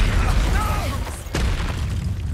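A spell blast explodes in the video game Hogwarts Legacy with a loud booming burst, a sharp crack midway, and dense fiery rumble throughout, close and forceful.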